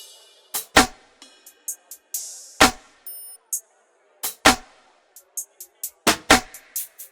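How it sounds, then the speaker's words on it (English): Layered crispy snares, claps and snaps in a neo soul beat crack out in hard, bright bursts, recurring roughly every two seconds amid lighter percussion ticks and metallic hits. "Then I've just layered multiple snares, claps and snaps."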